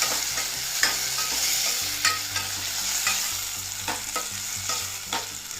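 Chopped medium tomatoes stirred and frying in a pan for South Indian tomato rasam, a steady close sizzle with repeated scraping stirs of the spoon.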